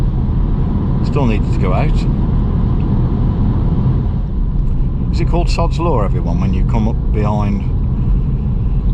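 A front-wheel-drive RenaultSport Clio 220 Trophy with 220 horsepower drives on the road, a loud, constant engine and road roar heard from inside the car, with someone talking over it.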